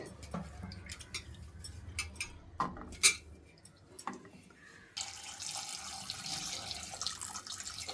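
Clinking dishes and utensils give way to tap water running steadily into a sink to rinse soaked chickpeas, close by and continuous for several seconds.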